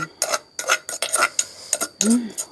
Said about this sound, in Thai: ตักใส่จาน